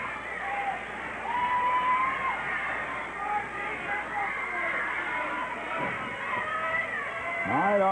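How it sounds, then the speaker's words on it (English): A large wrestling arena crowd murmurs and cheers in a steady, distant roar that swells at moments, with a commentator's voice talking over it throughout. "this looks like a record crowd to me"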